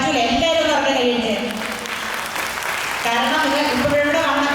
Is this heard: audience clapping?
yes